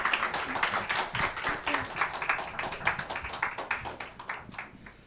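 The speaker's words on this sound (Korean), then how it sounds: "나오실 때 큰 박수 부탁드리겠습니다." Applause from the congregation at a church middle-school worship service as a visiting missionary comes forward: dense, steady clapping that fills the whole stretch at moderate loudness, with no talk over it.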